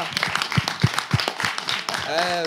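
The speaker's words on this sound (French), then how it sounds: "On acclame pour les professeurs, là." An audience applauds the professors at a live show, a brief burst of clapping mixed with cheering voices and talk.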